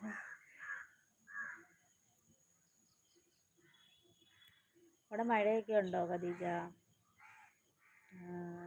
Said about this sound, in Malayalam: ഓ കാക്ക